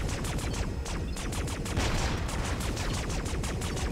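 Rapid, dense gunfire from the Lego Marvel Super Heroes 2 video game rattles continuously as a loud, unbroken stream of shots with no talking.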